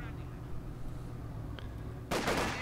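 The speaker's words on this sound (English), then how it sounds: "the grenadier is actually firing it under the arm, like in reality" A grenadier firing a weapon in Company of Heroes 2: one sharp, loud shot bursts out and rings on as a short echoing tail, following a low rumbling backdrop with faint ticks.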